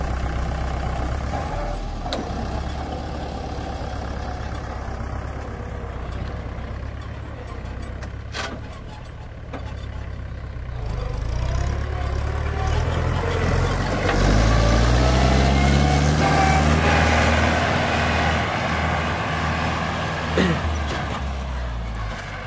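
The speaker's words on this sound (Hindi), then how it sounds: "अभी भाई अपना ट्रैक्टर लेके जा रहा है" A tractor engine on a farm, driven off along the top of an embankment, gives a steady low diesel rumble that swells louder midway as it pulls away, with faint voices in the background.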